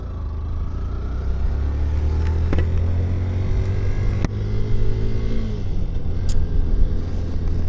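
A car driving along a road between Farakka and Siliguri in deep fog, with a steady, close engine and road rumble that holds throughout, plus a few brief knocks.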